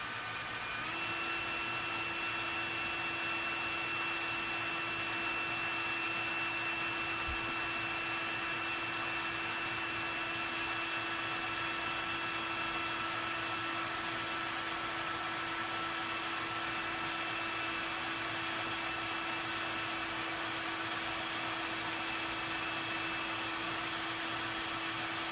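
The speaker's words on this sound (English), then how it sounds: "I'm going to start off with a slightly undersized hole" A small drill bit bores a slightly undersized hole for a 1/8-inch push rod into a thick gun butt plate, producing a steady, unbroken whine that holds for about twenty-five seconds with no voices.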